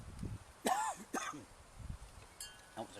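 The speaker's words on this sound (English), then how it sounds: "Not a dry cough." A few short, wet coughs close by, coming in uneven bursts with brief pauses between them.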